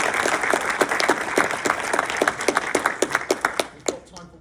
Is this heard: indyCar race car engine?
no